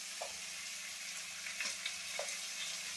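Carrots and onions frying in a pan for a chicken soup, a steady soft hiss of sizzling with a few faint clinks and stirring sounds, close but quiet and with no one talking.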